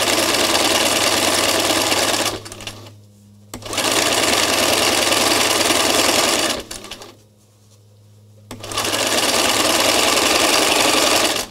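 A sewing machine runs in free-motion mode stitching scallop shapes like flower petals, loud and steady in three long bursts with two short pauses between.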